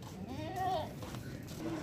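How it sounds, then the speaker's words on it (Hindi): A Rajanpuri Gulabi goat on a goat farm gives a faint, wavering bleat, then a shorter one, over a steady background of outdoor noise. "और दोस्तों नंबर 3 ये बकरी आ रही है।"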